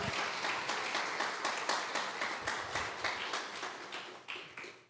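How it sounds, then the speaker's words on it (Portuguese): A church congregation applauds together during a Portuguese-language sermon, a full, continuous wash of many hands clapping that swells in bursts and fades slightly toward the end. "Aplauda Jesus."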